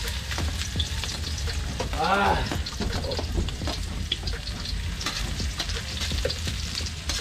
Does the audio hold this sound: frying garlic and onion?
yes